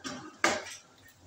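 Goat trotters drop into a metal pressure cooker with one sharp clattering clank, followed by a short rattle that fades, all close by and without speech.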